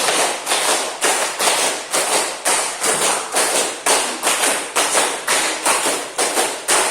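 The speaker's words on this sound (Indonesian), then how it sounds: "Tepuk 5 kali." A group of students in a classroom claps hands together in a steady, rapid series of sharp, loud claps, each burst quickly decaying, with no talking over them.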